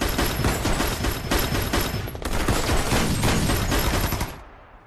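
A fusillade of gunfire rattles on loudly and continuously for several seconds in a Vietnamese kung fu action scene, dense rapid shots with a brief break before cutting off abruptly.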